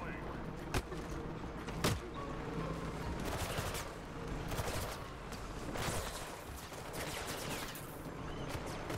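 Gunfire in the game Mirror's Edge Catalyst, several sharp shots and scattered bursts over a busy, noisy background, with a voice talking through much of it.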